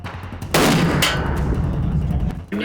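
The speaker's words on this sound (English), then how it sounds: "Just shot the 50 cal. That thing's spectacular." A single loud, close .50 BMG rifle shot cracks out at an outdoor shooting range, its heavy blast rumbling and ringing on for about two seconds before dying away.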